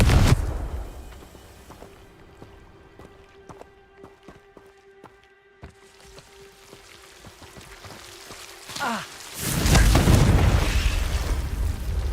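A Confringo blasting spell goes off in Hogwarts Legacy: a sharp burst at the start, then a quieter stretch, then a heavy booming explosion with a rumbling tail near the end.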